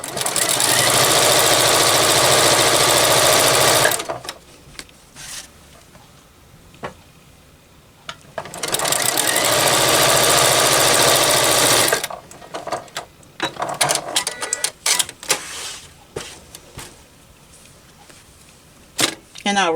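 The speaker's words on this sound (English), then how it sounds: "I'm going to go ahead and stitch down through the middle" Sewing machine stitching fabric for a microwave bowl cozy, running in two loud steady bursts of several seconds each, separated by quieter handling clicks and rustles, close up.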